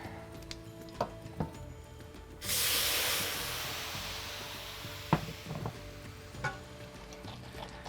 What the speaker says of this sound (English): a little bit of water fresh on the hot pan